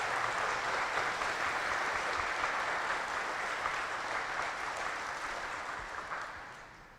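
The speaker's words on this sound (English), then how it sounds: "So I would like to give them another big applause." A large audience applauds cadets at the 8 Globemaster 10th Annual Ceremonial Review, a dense, even roar of clapping that holds steady, then slowly fades toward the end.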